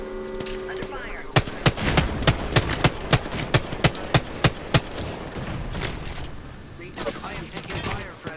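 Video game gunfire, a rapid string of about a dozen sharp, loud, evenly spaced shots over continuous battle noise, with a voice speaking over it.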